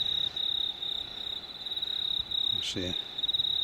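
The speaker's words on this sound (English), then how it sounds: "a good place for crickets to call their tune." Crickets on Easter Island trill in one continuous high, steady chirp at dawn, faint but unbroken, while someone briefly speaks over them near the end.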